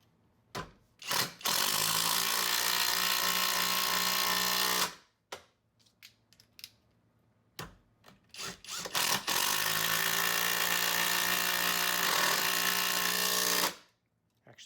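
Cordless impact driver, Festool TID 18 or Skil PWRCore 12V, driving a bolt in two long loud hammering bursts of several seconds each, separated by short clicks and trigger blips, close up with no talk.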